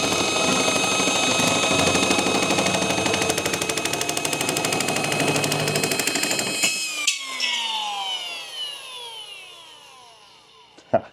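A new Milwaukee power tool chips away in a fast, loud, hammering rattle that runs steadily for about seven seconds, then cuts off and winds down in a falling whine with a few faint clicks and a final knock.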